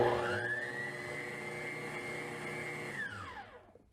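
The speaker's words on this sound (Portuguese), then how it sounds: "É misturar na velocidade mínima da batedeira" A stand mixer on its lowest speed blends flour into chocolate cake batter, its motor whirring steadily and close with a smooth tonal hum that winds down and fades out at the end.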